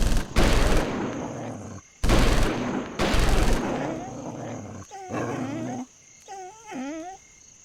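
Gunfire killing dogs in Soldiers of Anarchy comes as three loud, close bursts of shots, followed by yelping and whining animal cries, with someone talking faintly in the background.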